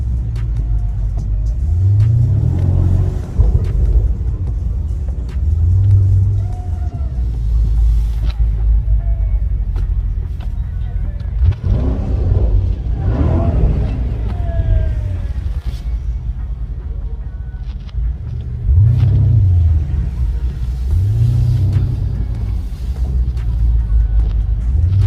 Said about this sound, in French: Ferrari 812 super fast. Donc on va tourner un peu en ville et puis on va faire un peu de bruit.